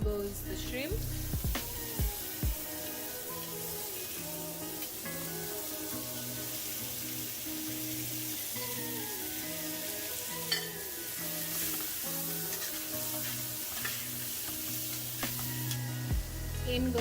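Shrimp hit a hot frying pan and sizzle loudly in a steady hiss with crackling spatter and occasional utensil clinks, continuing under faint background music.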